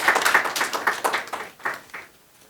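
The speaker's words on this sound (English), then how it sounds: "A big round of applause for all the awardees getting awarded today" A small audience applauds awardees at a Congressional International Women's Day honors event, a brief run of separate claps that fades out within a couple of seconds.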